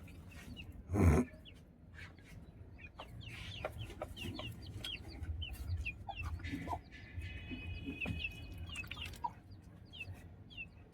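Chickens cluck and chirp softly around a rooftop poultry yard with Aseel roosters, with a loud thump near the start and faint bird calls scattered throughout.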